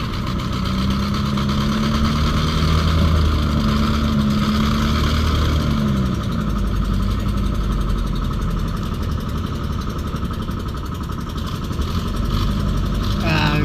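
A motor engine runs steadily and loudly close by, a constant low rumble that doesn't let up, with faint voices underneath.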